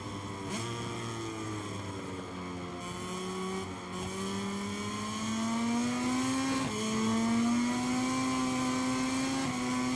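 Racing motorcycle engines at Mugello in MotoGP 23 whine loud and close, pitch climbing steadily through the gears with brief dips at shifts, several bikes droning together without pause.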